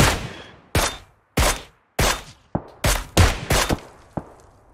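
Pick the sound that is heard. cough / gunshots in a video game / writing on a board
gunshots in a video game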